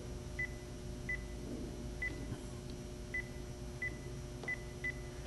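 Telephone keypad dialing tones on a phone line, a string of seven short, evenly spaced beeps entered one by one, moderately loud over a steady low hum with no talk.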